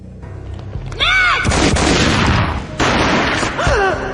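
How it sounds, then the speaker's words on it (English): A booming gunshot in the Max Payne video game, heavy blasts with a long noisy tail, with whistling, rising tones before and after and a quiet stretch at the start. "A gunshot boomed and she fell down in slow motion."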